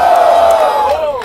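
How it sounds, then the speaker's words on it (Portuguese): Crowd at a rap battle cheering and yelling in a loud collective whoop that swells and then gradually tails off, with excited voices blending together close by. "Barulho para as rimas do Onix"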